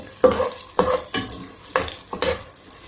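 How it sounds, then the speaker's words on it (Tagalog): Chopped onion dropped into hot oil in a pan for a sardine and rice noodle stir-fry, several bursts of sizzle and clatter at irregular intervals, close and fairly loud, no voices. "Once the oil is hot, you can put the onion first."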